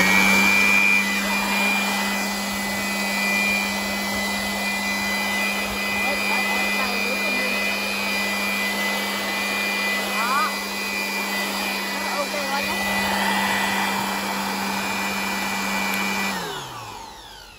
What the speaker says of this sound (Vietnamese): Cái này nói chung là cái máy hút thổi bụi gia đình nào cũng cần nên có này.